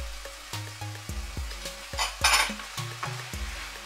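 Soft eggplant being stirred in a pan with a spatula that knocks and scrapes in a loose rhythm of clacks, over a light frying sizzle, close and fairly loud.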